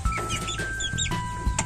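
Chickens scramble over black soldier fly maggots, letting out several short, close clucks and squawks in quick succession over a low background hum.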